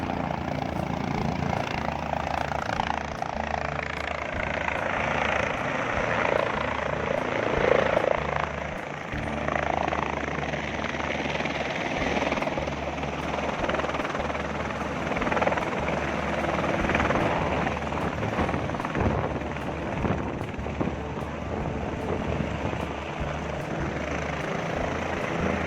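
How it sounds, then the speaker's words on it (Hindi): A helicopter flies on the route to the Kedarnath shrine in the Himalayas, its rotor throb and turbine whine sustained and fairly close for the whole stretch, rising and easing slightly with no speech. "बस कुछ ही मिनट्स में आप हेलीकॉप्टर से बाबा केदार के धाम पहुंच सकते हैं"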